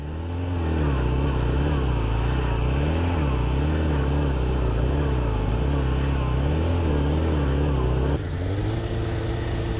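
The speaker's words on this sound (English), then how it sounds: "I'm just letting the bike fall over and letting my idle carry me." A motorcycle putters at idle through a tight circle wheelie, its steady engine drone wavering slightly in pitch before dropping at the end; someone talks over it.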